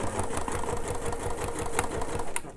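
A sewing machine runs steadily and close up, stitching a fabric purse made for a metal purse frame, with a fast, even motor whir and needle chatter throughout.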